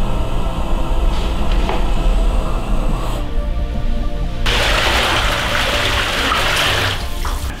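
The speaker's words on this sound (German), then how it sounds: "Also wir füllen jetzt den Eimer mit kaltem Wasser." Cold tap water gushes into a bucket, a loud steady rushing stream that briefly drops in intensity before surging back stronger and fuller as the flow increases, with no voices.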